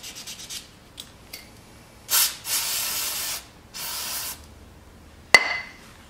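A Kawasaki carburetor part is sanded by hand in short rasping bursts, several separate strokes with pauses between, close and fairly quiet, with a light clink near the end.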